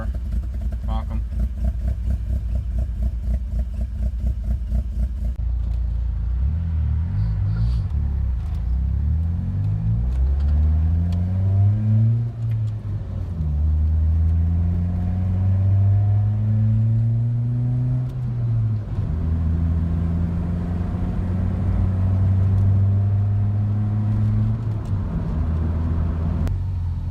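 A 2G Mitsubishi Eclipse DSM engine with a 420a motor idles steadily in a driveway. Its low rumble lopes, with the pitch rising and dipping as the idle hunts. The engine runs near and continuous throughout.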